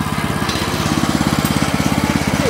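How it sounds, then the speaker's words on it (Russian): Close, loud chugging of a Weima WM900-3 walk-behind tractor's engine running steadily, with rapid even firing pulses throughout and no talking. "Двигатель работает устойчиво."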